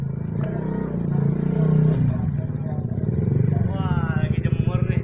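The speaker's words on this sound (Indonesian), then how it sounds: "ada motor." A motorcycle passes close by on a residential street, its engine droning loudly and steadily with a rising rev toward the end, while children and adults talk over it.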